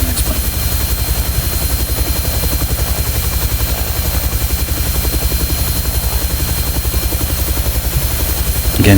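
A Huey helicopter flying in the X-Plane 12 flight simulator gives a loud, steady, rapid rotor chop over a droning engine hum that runs unbroken throughout.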